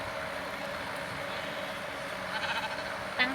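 Sheep bleating in the Minecraft video game, soft and repeated over a steady game background, with a brief louder call near the end.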